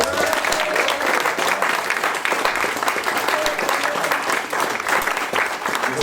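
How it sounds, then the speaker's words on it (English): An audience claps steadily and densely after a guitarist's folk performance of Morris dancing tunes at a December music evening in Manley, the applause sustained and fairly close, with no voices standing out. "give him a big round of applause?"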